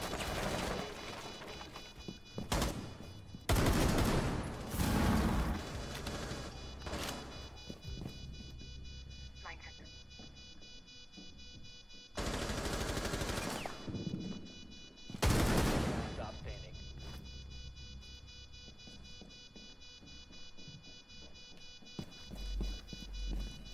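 Hip-fire gunshots in Rainbow Six Siege, loud bursts of several shots in the first seconds, again near twelve and fifteen seconds, set against a continuous game background with a voice cheering between shots.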